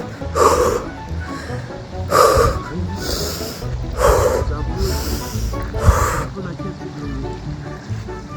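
Heavy rhythmic breathing up close during a rainy lakeside hike, loud breaths repeating roughly every second or two, with no talk over them.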